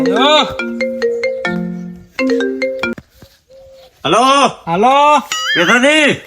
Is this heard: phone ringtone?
yes